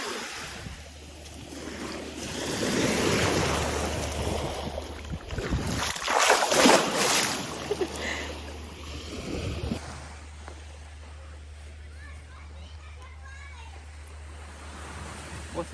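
Surf washing onto a beach in the Maldives, a steady broad rush of waves rising and falling throughout, with a louder surge midway and a low constant hum beneath.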